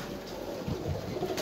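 Teddy pigeons coo softly and repeatedly, a low throaty burble that carries on steadily without any talking.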